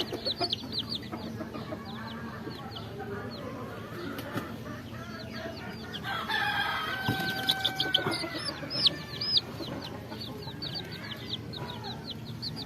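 Five farm chicken chicks cheep in high, rapid peeps while being given eye-drop vaccine, a busy chorus close by with some handling noise, without clear talk.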